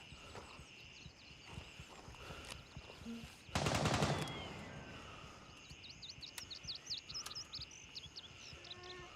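Gunfire in the military shooter Gray Zone Warfare, with a loud burst of shots in the middle of the clip and scattered sharper reports around it, over steady ambient game noise.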